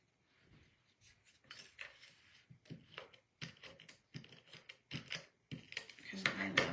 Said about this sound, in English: I'm going to cut more butterflies out